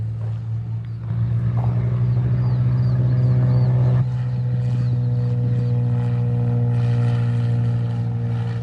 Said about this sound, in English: Oh, another takeoff.